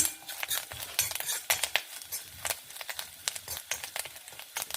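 A spoon scrapes and stirs grated coconut in a hot pan with quick, irregular metallic strokes, over a soft sizzle of the coconut dry roasting.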